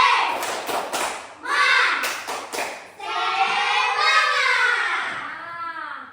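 A primary school class does a rhythmic spirit clap, bursts of group hand claps in a patterned beat mixed with children's chanting voices, fairly loud and close in a classroom.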